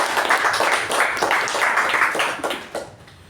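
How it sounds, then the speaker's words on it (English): A small group applauding at a club meeting after a president's speech, clapping in pulsing waves that fade out over a few seconds. "Let's give a round of applause"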